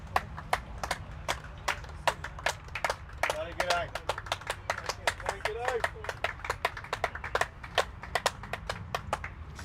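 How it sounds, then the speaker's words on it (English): Scattered applause from a small crowd of spectators at an over-55s cricket Test match between South Africa and Australia, marking a batsman's outstanding innings. Distinct individual claps ring out in a loose, uneven rhythm, with brief murmured voices partway through. "he should get the applause. I think we'll just let you hear those."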